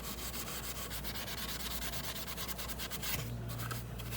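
Steady brisk scrubbing of a gun with Professor Pew CLP, a close, rapid back-and-forth rubbing that runs continuously, briefly easing near the end.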